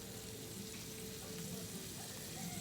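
Butter sizzles steadily on a grill beside bread, a soft continuous frying hiss with faint crackle throughout, no talking.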